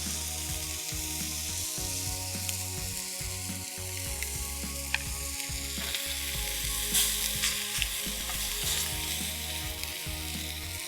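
Chicken steak sears on a hot grill pan with a steady, dense sizzle and crackle throughout, close and continuous, with occasional faint scraping clicks and no talking.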